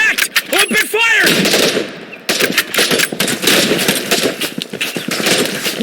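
Bursts of automatic gunfire in the military shooter game Operation: Harsh Doorstop crackle in rapid, loud volleys, with shouted voices in between and over the shots.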